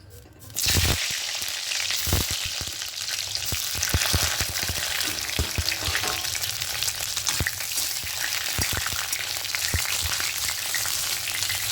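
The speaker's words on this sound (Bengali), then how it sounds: "প্রথমে একটু বেগুনগুলোকে হালকা করে শুধু ভেজে নেবো" Eggplant fries in hot mustard oil with a loud, continuous sizzle, punctuated by the clacks and scrapes of stirring in the pan.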